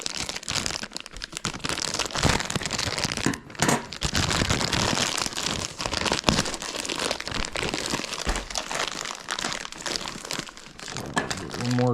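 Scissors snip and tear through crinkly plastic packaging of a Vacpack, with steady close crumpling and crackling throughout while a person talks over it.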